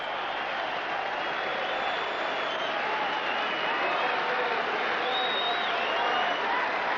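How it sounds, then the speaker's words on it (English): A huge record racecourse crowd at Moonee Valley cheers and applauds the Cox Plate winner Might And Power, a continuous loud roar of clapping and yelling throughout. "there it is, the crowd, the reception for Mighten Power"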